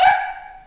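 An imported pet dog gives a single sharp bark that rings out and fades away. The bark is close and loud, and no other sound follows it.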